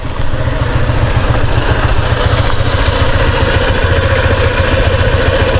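A warmed-up motorcycle engine idles steadily and loudly up close, a constant low rumbling throb with no talk over it.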